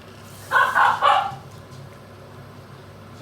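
A pet dog barks a few times in quick succession in a home kitchen where risotto is cooking, loud and close, then quiet room tone follows.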